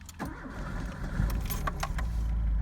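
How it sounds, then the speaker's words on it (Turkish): Tofaş car started with a key: keys jangle and click near the start, then the starter cranks and the engine catches into a rising, steady idle rumble. "Şöyle bir önce marş yapalım."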